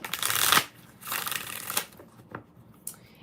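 Close riffle shuffling of a tarot deck, a couple of longer bursts followed by short card taps, with no talking.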